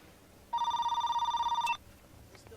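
A telephone bell rings in a single steady electronic burst of just over a second, fairly loud against a quiet room, then cuts off as an answering machine picks up.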